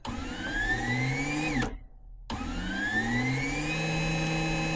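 A BabyLock Sashiko sewing machine winding a bobbin: a steady motor whine rises in pitch as it speeds up, cuts out briefly, then starts again and climbs back to a constant hum.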